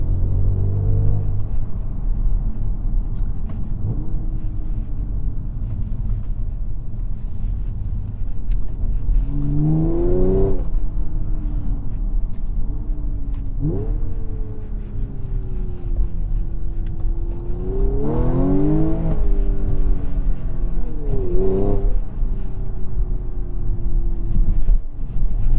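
An Audi S5 Sportback with a tuned Stage 2 V6 turbo engine drives along, a steady low rumble broken by several rising acceleration pulls and gear changes, heard from inside the cabin with no talking.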